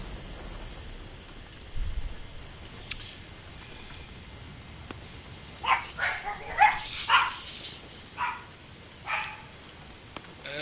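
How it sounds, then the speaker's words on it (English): Dogs bark in a shooter video game, a cluster of several sharp, mid-distance barks in quick succession followed by a couple of isolated ones over a faint hissing, rain-like background. "That's enough dogs."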